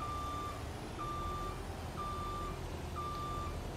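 Steady electronic reversing beeps from a skid steer in Farming Simulator 22, four evenly spaced long tones sounding over a constant low engine rumble and background noise.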